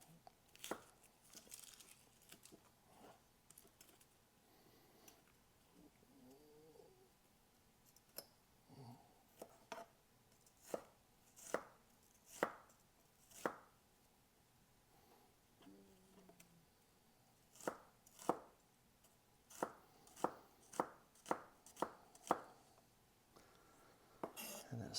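Knife chopping a sweet onion on a cutting board, a run of sharp, close taps that start sparse and quicken into a steady rhythm toward the end, with no talking.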